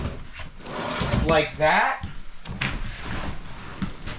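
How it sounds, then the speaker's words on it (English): Deep drawer on flush slides in a fifth wheel trailer sliding open and shut with a smooth rumble and soft thuds, heard under someone talking. "right over here we have a nice drawer. Deep drawer too. Look at the flush slides."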